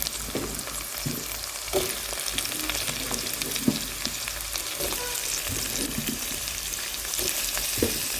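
Peppers dropped into onions frying in a pan, a steady bright sizzle broken by scattered clatters of stirring, close and unaccompanied by voices.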